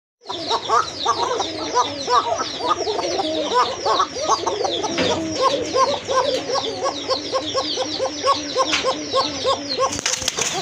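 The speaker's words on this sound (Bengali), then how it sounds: "এক জোড়া কোকা কবুতর দেখলেন তো কত সুন্দর ডাকে কবুতরগুলো" A pair of koka pigeons call continuously up close, with rhythmic rolling coos and throaty bursts repeating throughout, amid faint other birds.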